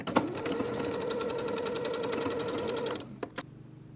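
A sewing machine joins the two ends of a strip of bias tape for a top's neckline, running in one close, steady three-second burst with a rapid needle rhythm before stopping with a couple of clicks.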